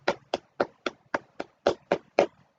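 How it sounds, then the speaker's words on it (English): Sparse, sad clapping from the Steins;Gate visual novel: nine separate hand claps spaced at a slow, even pace, each sharp and isolated, with silence between them. "Dr. Nakabachi enters to sparse applause."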